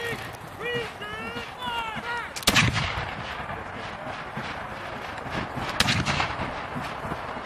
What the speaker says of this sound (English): That's a grenade that was just thrown over the wall